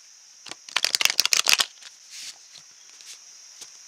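A deck of take-what-I-need cards being shuffled, a quick burst of crisp riffling flutters followed by a few softer, scattered card flicks and taps, close and alone.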